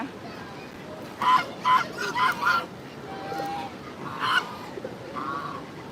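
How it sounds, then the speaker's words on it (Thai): Several loud, nasal honks burst out in a quick cluster, followed by a few more scattered calls over low background noise. "ตกใจห่าน แล้วจะโดดหนีไปทำไม"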